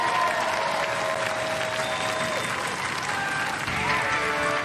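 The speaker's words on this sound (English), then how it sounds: "Ladies and gentlemen, give them a round of applause" A studio audience at a robot combat show applauds steadily and loudly throughout, a dense wash of clapping with a faint tone running underneath.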